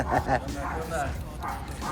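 A dog gives a couple of short, close barks and yips amid a busy indoor scene, with voices mixed in around them.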